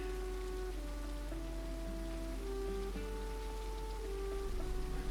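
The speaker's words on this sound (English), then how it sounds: "So it is raining." Rain falls in a fantasy shop simulator video game as a steady, even hiss of drops, soft and continuous beneath gentle music.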